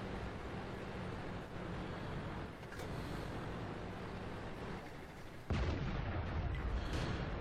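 Artillery fire in a tank battle video game, heard as distant rumbling booms over a constant low battle drone. A louder, heavier rumble cuts in near the end.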